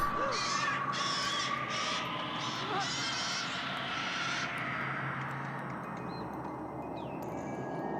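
A bird in the 1975 Dario Argento film Deep Red gives several harsh, crow-like cawing calls in quick succession, fairly close, over a dim rumbling background that continues after the calls fade.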